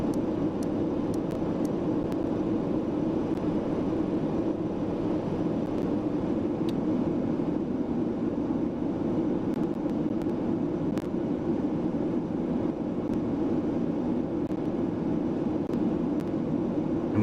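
Concorde engines roaring at full throttle with reheat in a flight simulator game, a loud, steady broadband jet rumble that holds unbroken throughout with no talk.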